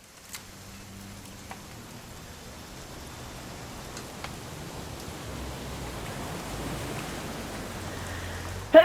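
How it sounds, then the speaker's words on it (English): Soft, steady rain in the video game What Remains of Edith Finch, a faint hiss of drops that slowly grows a little louder, with a few scattered light ticks and no talk. "It's gonna rain the whole weekend"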